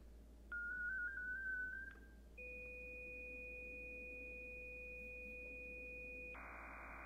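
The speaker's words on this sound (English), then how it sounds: "It's just gonna play audio tones over the speaker on this laptop" A laptop speaker plays digital tones for Baofeng radio encryption: a wavering warble, then a steady pair of pure tones held for several seconds before switching to a brighter buzzing tone, clean and alone.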